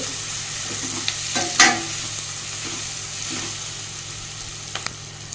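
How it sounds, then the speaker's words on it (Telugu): Tomatoes stirred and fried in a pan, a steady close sizzle with scraping stirs and a louder clatter of the utensil early on, continuing alone without talk. "టమోటా యాడ్ చేసుకుందాం బాగా ఒక్కసారి ఇలా అనేసుకోవాలి"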